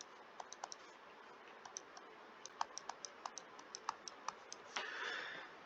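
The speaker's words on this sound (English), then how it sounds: "Now I'm going to type the discriminant in my calculator." Keys pressed on a calculator keypad while working out a quadratic formula discriminant: a string of light, crisp taps at an uneven pace, fairly faint, with a short rustle at the end.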